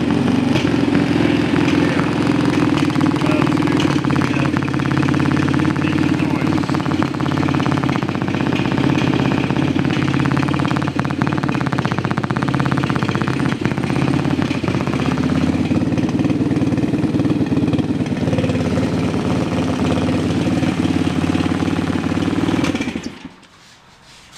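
An ATV four-wheeler's engine idles steadily at close range, a constant low, throbbing drone for over twenty seconds before abruptly cutting out near the end, with no talking.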